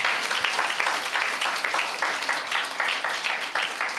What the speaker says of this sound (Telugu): హల్లెలూయా, కొట్టు చప్పట్లు ఇప్పుడు.